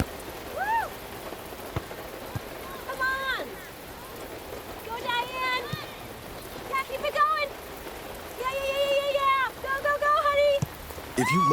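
Steady rain falls on a surface during a high school ball game, a continuous hiss heard under overlapping voices and cheering tones throughout.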